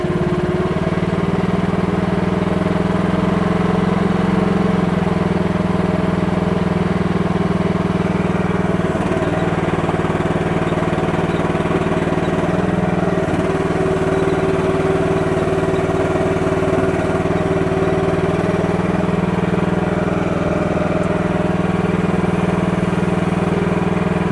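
An MH12RX mini excavator's engine runs steadily at a low, constant drone, close and loud for the whole stretch, with slight shifts in pitch but no talking.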